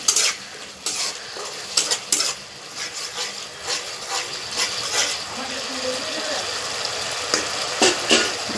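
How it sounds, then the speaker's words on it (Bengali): Green peas frying in a pan being stirred, repeated metal spoon scrapes and clinks against the pan over a light sizzle, close up, with some talk in the background. "মটরশুঁটি দিয়ে আমি একটু নাড়াচাড়া করে নিলাম"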